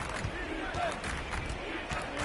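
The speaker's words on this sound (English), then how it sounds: "A few faithful there cheering for the defense." Faint crowd cheering for the defense in a simulated NBA basketball game, Detroit Pistons at Cleveland Cavaliers, a steady low roar of arena noise with no clear peaks.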